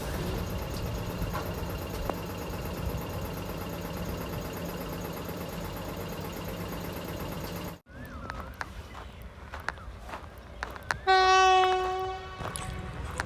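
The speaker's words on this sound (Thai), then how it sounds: "วีดเสียงดังเลยครับส่งสัญญาณให้รู้ว่ากำลังจะเตรียมตัวออกแล้วนะครับ" A DD51 diesel locomotive hauling a stone ballast train on double-track railway works sounds a loud, sustained horn blast near the end, after steady rumbling engine and rail noise broken by a brief pause.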